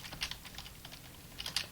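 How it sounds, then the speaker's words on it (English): Rapid typing on a computer keyboard, close and fairly quiet, with bursts of clicking keys separated by short pauses and no voices. "this is why this keyboard's annoying"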